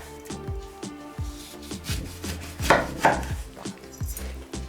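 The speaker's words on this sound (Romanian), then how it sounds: "Pentru început tăiem lămâile, îndepărtăm coaja care este mai groasă de la capete," A knife cutting lemons into rounds on a board for homemade Tunisian lemonade, a quick series of close, rhythmic chopping taps with a few louder knocks midway.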